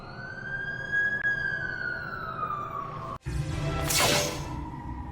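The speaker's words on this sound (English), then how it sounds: "That's the ambulance I called." Ambulance siren from The Amazing Spider-Man 2 video game, a loud steady wail sliding slowly downward before a brief cut, then a burst of broadband noise as the scene continues.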